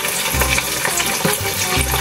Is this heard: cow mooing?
no